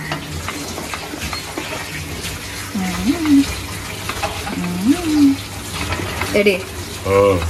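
Water poured into a cooking pot of rice on a home stove, a steady wash of pouring with a few gurgling swells, with a voice in the background.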